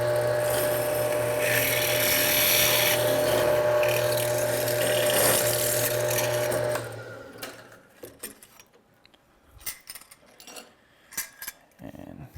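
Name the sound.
drilling a hole in aluminum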